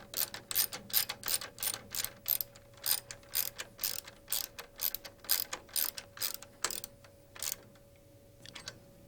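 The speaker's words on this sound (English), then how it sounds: "Tighten the bolt enough to hold firmly" A ratchet wrench tightens a bolt on a Rotorway helicopter's cyclic control linkage, giving a brisk series of evenly spaced metallic clicks, close and crisp, that slow and stop near the end.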